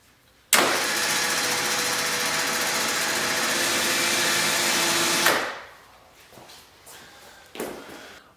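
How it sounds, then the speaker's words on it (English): A winch on a quad winds in synthetic winch rope as part of a fairlead install: a steady, loud motor whine starts abruptly, runs for about five seconds, then cuts off, followed by a few faint clunks and rustles. "I'll go ahead and get the winch rope wound in"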